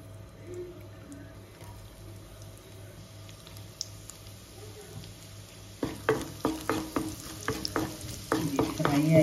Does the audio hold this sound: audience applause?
no